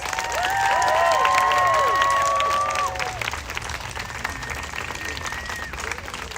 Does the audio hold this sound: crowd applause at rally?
yes